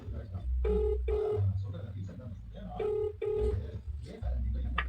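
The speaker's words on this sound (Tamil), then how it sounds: "இன்னும் ஒரு ரெண்டு மூணு பேருக்கு ஃபோன் போட்டு பார்ப்போம்" A phone call is dialled and rings, with repeated paired ringback tones pulsing over a low background hum. Someone talks at intervals between the rings.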